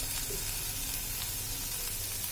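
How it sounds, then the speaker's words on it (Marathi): Oil poured over stuffed bitter gourds (karela) in a pan gives a steady, close, even sizzle and hiss throughout, with no voices. "अशा प्रकारे आपल्याला सर्व कारल्यांवर तेल टाकून घ्यायचे"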